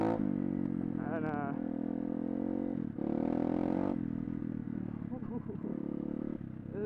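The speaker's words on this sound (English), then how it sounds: "this is a fun little bike to rip around on, though" Pit bike engine revving in bursts while being ridden, rising and falling whines with clattering, fairly close, under loud wind buffeting.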